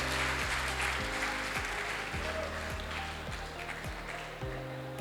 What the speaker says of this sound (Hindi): एक बार जोरदार तालियों के साथ।